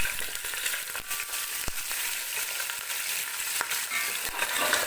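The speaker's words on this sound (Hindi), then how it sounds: "अब हमने इसमें ये पीस ऐड करने हैं चिकन के।" Chicken pieces fry with whole garam masala in hot oil for a Saudi kabsa, giving a steady, close sizzle with a few sharp clicks and pops scattered through it and no voices.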